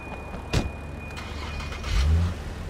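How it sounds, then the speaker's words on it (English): A car called The Executive drives in the Sleeping Dogs video game, its engine humming steadily with a short thump and a low surge of revving near the end. "The Executive is the name of this car."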